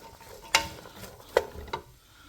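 Sofrito being stirred in olive oil in a pan for a Bolognese sauce, faint sizzling under three distinct scraping strokes of the spoon against the pan.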